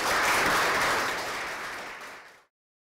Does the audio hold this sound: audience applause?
yes